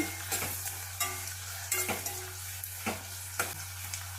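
Chopped onions frying in oil in a pan for a capsicum curry, a steady close sizzle broken by a handful of sharp stirring scrapes spaced through the clip, with a low constant hum beneath and no voices.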